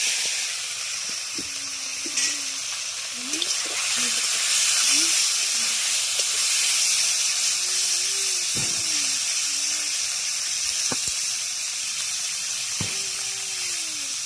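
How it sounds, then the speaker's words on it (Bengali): Puti fish coated in salt and turmeric go into hot oil, setting off a steady steamy hiss and sizzle that holds throughout, broken by a few sharp clicks, with faint sounds in the background. "এবার আমি লবণ আর হলুদ মাখিয়ে রাখা মাছগুলো দিয়ে দিচ্ছি"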